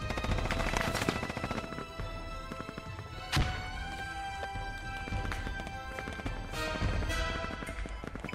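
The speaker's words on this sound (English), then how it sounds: "Did anyone see where those shots are coming from?" Gunfire in the Squad military simulation game: sharp, loud cracks at scattered intervals, with one especially strong report, over a dense, busy battlefield background.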